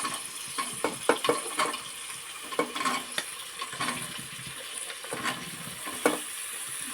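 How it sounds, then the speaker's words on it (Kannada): Chopped vegetables and onion sizzle in a pan for vegetable pulao, a steady broadband hiss broken by scattered scraping stirs and occasional clinks, moderately close with no talk. "ಸ್ವಲ್ಪ ಫ್ರೈ ಮಾಡೋಣ ಮತ್ತು ನಾವು ಹೆಚ್ಕೊಂಡಿದ್ದೆಲ್ಲ ವೆಜಿಟೇಬಲ್ಸು ಹಾಕ್ತೀವಿ"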